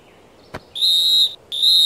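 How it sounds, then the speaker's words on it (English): Two sustained, steady high whistle tones from a cartoon plane character, each about half a second long, preceded by a brief faint click, with quiet between them. "They must be too far away to hear my whistle."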